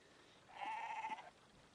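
A single bleat from a goat in a goat-simulator video game, a clear, moderately quiet cry lasting under a second, with no talking.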